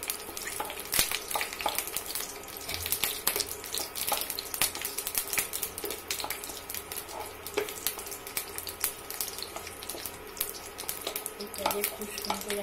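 Whole spices, cloves and cinnamon, fry in hot oil in a pan for Bengali mutton kosha, a continuous crackling sizzle broken by frequent clicks and scrapes of stirring, with faint background murmur.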